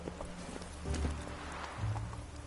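The horse Roach gallops in The Witcher 3, rhythmic hoofbeats drumming close over a soft game background, with a brief whinny-like swell in between.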